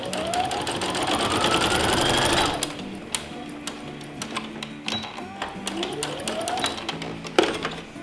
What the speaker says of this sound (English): I'm just going to sew that shut.